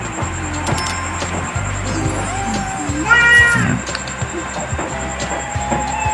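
Cartoon cats meow repeatedly in the Merge Cats game, short game cries over a looping background tune with clinking interface chimes and one louder drawn-out yowl midway.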